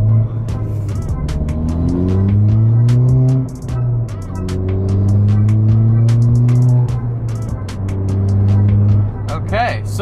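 A lowered Ford Fiesta ST accelerates onto a freeway, its engine note rising through gears in repeated sweeping pulls, heard from inside the car under continuous talking and occasional clicks.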